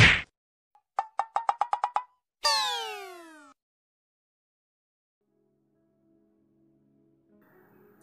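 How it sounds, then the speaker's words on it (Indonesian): A mobile phone rings with a quick run of bright electronic plinks, then a shimmering descending chime, loud and close, followed by near silence. "tiba-tiba HP Adrian berbunyi"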